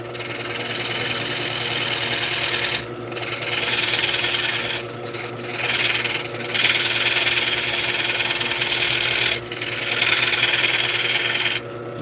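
Hand cutting into a bullet to make divot lines gives a continuous rasping, grinding scrape that stops briefly several times and then starts again, close up and fairly loud.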